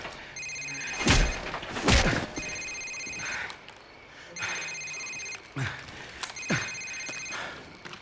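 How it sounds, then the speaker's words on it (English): A cell phone in Call of Duty 4 rings in repeated electronic bursts, moderately close, between heavy thuds. "Sir, it's his cell phone."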